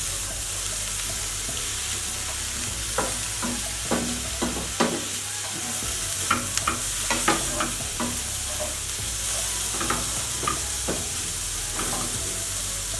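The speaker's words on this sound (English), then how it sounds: "we're literally just gonna saute this through" Ingredients for fish enchiladas sautéing in a pan with a little oil: a steady, close sizzle broken by frequent scraping stirs, with no talking.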